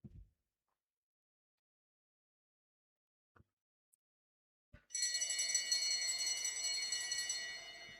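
At a track cycling race, a bell starts ringing suddenly and then keeps going in a rapid, sustained clang for the final lap, loud and bright after a long near-silent stretch with a few faint clicks.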